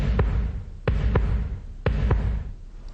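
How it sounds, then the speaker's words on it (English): A deep heartbeat thumps in paired beats, a double pulse repeating roughly once a second, close and steady over a low background rumble. "A heartbeat,"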